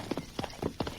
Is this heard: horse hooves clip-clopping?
yes